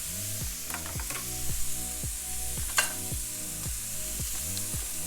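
Mushrooms and onions dropped into hot oil with garlic, a close, bright sizzle and crackle with stirring, accompanied by a repeating tonal sweep in the background, no speech.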